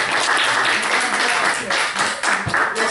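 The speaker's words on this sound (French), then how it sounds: "J'aimerais qu'on l'applaudisse." A ceremony audience applauds, with dense, continuous clapping filling the room at close range for a few seconds.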